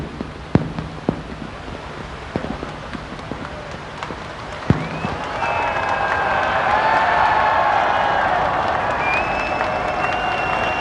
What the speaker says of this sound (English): Despite the rain pounding from the peak, a cheer for His Royal Highness having delivered his message from Her Majesty the Queen